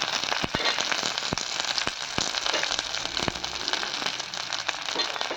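Dried red chilies, green chilies and curry leaves crackle and spit in hot oil while a Kerala plantain buttermilk curry is cooked, a dense, steady sizzle with sharp pops scattered throughout, close and alone with no talk.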